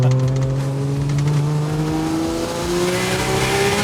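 Turbocharged 4x4 fitted with a Barra engine accelerating hard, loud and close, its rising engine note climbing steadily through the revs with a strong roar and no talking.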